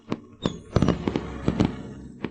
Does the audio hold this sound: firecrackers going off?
yes